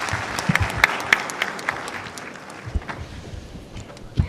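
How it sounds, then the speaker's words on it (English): Audience applause for the panelists at a smart cities conference session, a steady wash of clapping with a few sharper claps standing out, moderately loud and continuous without speech. "I will ask you to give a warm round of applause for our panelists"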